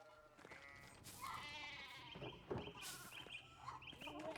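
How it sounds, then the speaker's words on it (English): Sheep bleat in the video game Pentiment, several calls rising over a busy outdoor ambience with chirping birds, the bleats fairly close and clear. "There are more sheep."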